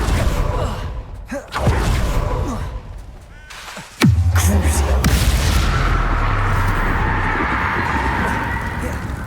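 An Incendio fire spell cast in Hogwarts Legacy erupts in a sudden loud burst. A steady rushing, crackling roar of flame follows and holds for several seconds, amid other game sounds.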